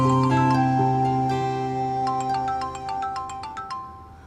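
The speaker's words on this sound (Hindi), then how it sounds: "मरियम को मिला रहा" Phone ringback tone while a call is placed, a steady electronic ringing melody with repeated bright tones, moderately loud and alone without talk.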